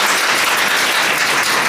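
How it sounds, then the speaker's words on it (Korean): Sustained applause from an audience at a book concert in Seoul, a dense steady wash of many hands clapping loudly throughout, with no voices over it. "박수 한번 부탁드립니다"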